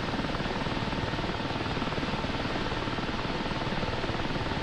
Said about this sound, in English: They just pop into the helicopter, and then we're gonna hover taxi over here.